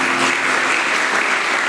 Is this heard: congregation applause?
yes